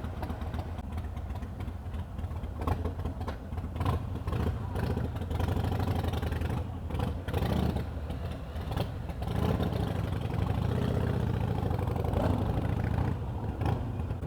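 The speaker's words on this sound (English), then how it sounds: "Never ridden one of these Iron 883s before. This one has Vance and Hines short shots on it" A 2018 Harley-Davidson Iron 883 motorcycle with Vance and Hines Short Shots exhaust idles steadily, its low, loping engine rumble close and constant with slight swells.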